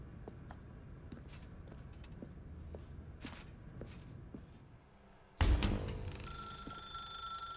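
Telephone bell ringing in The Stanley Parable video game, starting abruptly after quiet footsteps and faint thuds, then a loud, sustained electronic ring with a bright metallic tone.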